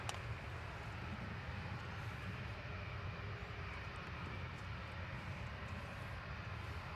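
Steady, loud broadband roar of a Ryanair Boeing 737-800 jet engine at Manchester Airport, a continuous rumble holding unchanged throughout with no voices.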